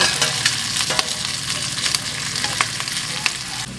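Pork belly sizzles and fries steadily in a pan for humba, with a dense crackling hiss and a few sharper spatters and stirring clicks, close and loud throughout, no voices.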